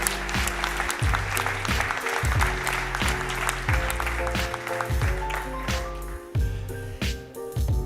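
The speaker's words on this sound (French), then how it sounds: "Et on les applaudit bien fort" An audience applauds award winners at a French business event on impact enterprises, steady clapping with a rhythmic beat and music playing over it throughout.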